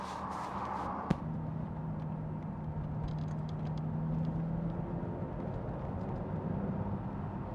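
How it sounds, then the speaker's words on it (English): An Aston Martin Vanquish V12 sounds off with a steady, low, droning exhaust note under a sharp click near the start, the engine humming on at moderate level while driving, with no talking. "listen to that distinctive V12 exhaust note that Vanquish has"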